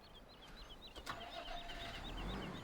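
A tractor engine in Farming Simulator 17 cranks and fires up, settling into a steady mid-pitched running drone, with chirping birds in the background.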